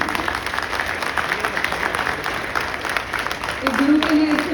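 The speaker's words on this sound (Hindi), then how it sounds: "तो मैं चाहूंगा सभी एक बार गुरुजी के लिए स्टैंड होकर तालियां बजाएं" A standing audience applauds a guru at a bodybuilding competition, a fairly loud, continuous wash of clapping, with a brief voice or tone rising near the end.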